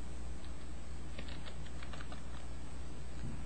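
Keys clatter in a brief burst of typing on a computer keyboard as a slice name is entered in Photoshop ImageReady, faint against a steady background hum.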